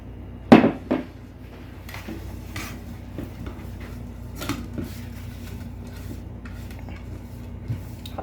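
A frying pan is set down with a sharp metallic clatter near the start and a second knock, followed by quiet kitchen handling and faint rubbing in an Egyptian home kitchen while grated potato and egg are being prepared.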